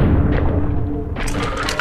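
Shotgun blast in the video game Buckshot Roulette, a heavy booming shot followed by a rumbling low tail and a brief clatter, loud and close.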